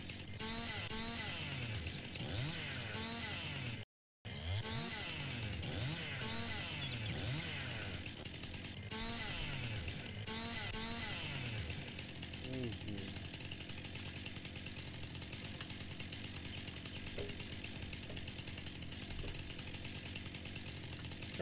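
Chainsaw in Farming Simulator 19 cutting logs to about six-meter lengths, a steady loud buzzing whine with repeated revving surges, continuous and close with no pauses beyond a brief dropout early on.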